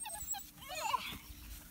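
Puppies about six weeks old, with a Pomeranian among them, give soft high whimpers and squeaky yips, a few short cries up close over a quiet room.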